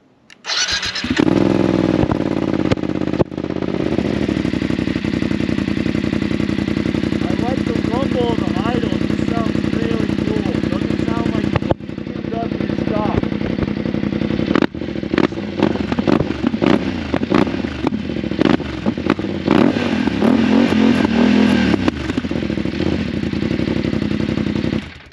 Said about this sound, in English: I think this is one of the best sounding bikes stock, but it is really loud now.